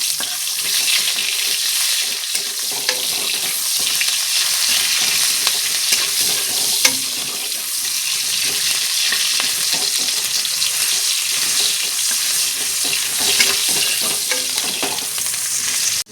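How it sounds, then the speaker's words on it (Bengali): Chopped onion sizzles steadily in hot oil in a pan with Bengali home cooking, a dense continuous frying hiss with occasional stirring clicks, close and moderately loud, no voices. "এখন পেঁয়াজ কুচিটা আমি একটু ভাজা করে নেব লাল লাল করে।"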